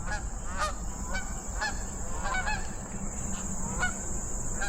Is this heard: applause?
no